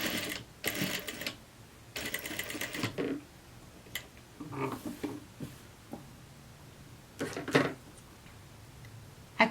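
A sewing machine stitches the seam of a summer jumpsuit in short bursts of fast whirring, with pauses, fabric rustling and small mechanical clicks in between.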